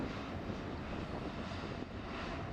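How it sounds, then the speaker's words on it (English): Airplanes on the runway at Fukuoka Airport, taking off and landing at dusk, make a steady, continuous engine roar that fills the whole stretch without pause or voices. "so it was easy to follow the planes taking off and landing."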